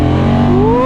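2023 Honda Transalp 750 motorcycle shifting gears with its quick shifter, a loud close engine note whose pitch briefly dips then climbs smoothly as the next gear pulls, with no interruption in the sound.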